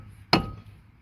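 A single sharp metallic clank as a hammer strikes the outer edge of a seized brake rotor on a Kia Rio or Hyundai Accent, close and brief, then a short ringing decay.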